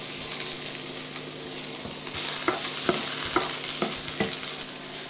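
Onion frying in oil for an Albanian bean stew, a continuous close sizzle that thickens midway, with several sharp clinks and scrapes of stirring and no talk.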